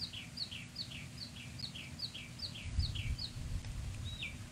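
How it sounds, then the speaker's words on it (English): Birds chirp outdoors in a quick run of about ten evenly spaced, high two-note tweets, followed by a single upward call. The calls are faint and distant over a low, steady background rumble. "So as we hear the birds chirping behind me"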